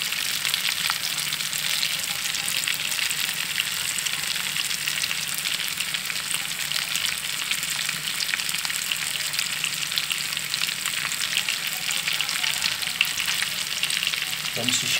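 Oil sizzles and crackles steadily and loudly throughout as cassava fries, a dense continuous hiss with no pauses.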